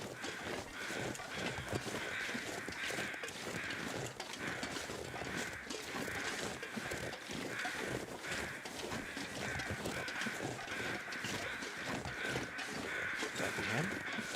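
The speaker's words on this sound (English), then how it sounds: "I hear crows over this way." Crows caw repeatedly in a video game outdoor scene, harsh calls recurring through a dense, continuous ambient background, fairly close and steady.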